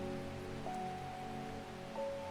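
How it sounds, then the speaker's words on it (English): Soft, steady rain patters in the video game Strange Horticulture, a faint continuous hiss under a low sustained musical drone with a couple of gentle tonal shifts. "and it's raining again"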